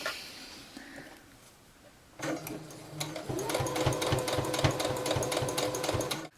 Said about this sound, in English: I'll just go all the way around, taking my pins out as I go